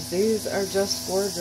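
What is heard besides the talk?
crickets chirping outside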